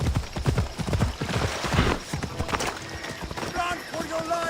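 Galloping horses in the Assassin's Creed Odyssey video game, a run of rapid hoof clip-clops under loud overlapping game dialogue and shouting, with tonal music rising toward the end.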